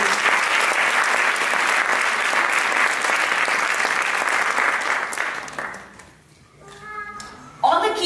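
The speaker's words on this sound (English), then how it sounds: "Another round of applause for Shri." A Bharatanatyam arangetram audience gives a dense, loud round of applause for a Carnatic musician, which fades away after about six seconds into brief tonal sounds.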